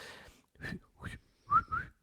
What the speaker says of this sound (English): And that's a whistle, by the way.